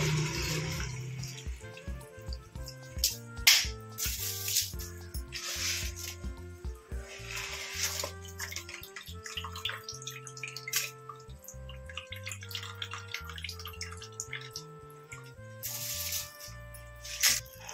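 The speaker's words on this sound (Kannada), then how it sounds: "ಇವಾಗ ಅಕ್ಕಿ ಹಾಕೋಣ." Rice is tipped into a pot of rolling boiling water for hotel-style vegetable pulao, heard as a few short splashy, hissing bursts under steady background music.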